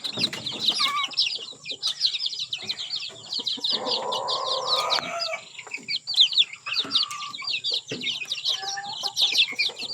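Free-range chickens cluck and chirp busily on a farm over a constant high twittering of chicks, with a few louder squawks breaking through.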